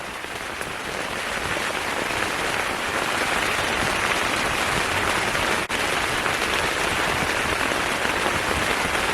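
Heavy rain pours down during sea fishing from the shore, a dense, loud, constant hiss of drops striking surfaces with no pauses.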